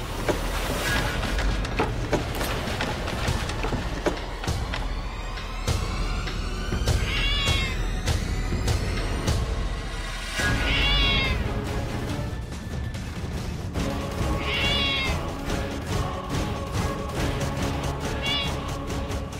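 A black cat meows loudly several times, drawn-out cries repeating every few seconds over steady background noise.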